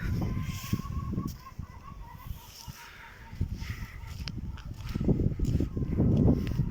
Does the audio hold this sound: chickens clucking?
yes